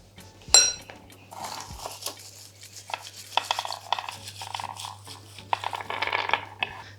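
Roasted hazelnuts, cooled with the skins still on, rubbed together to loosen the skins: light, irregular rattling and clicking of the nuts, with soft rustling scrapes in quiet bursts and no talk.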